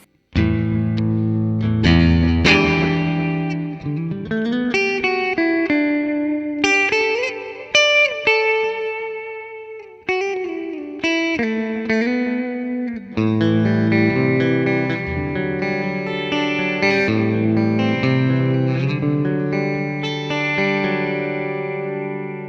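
Electric guitar played through a NUX Mighty Plug amp modeller on its Super reverb preset, ringing sustained chords and melodic lines with a lush, effected tone, loud and continuous throughout.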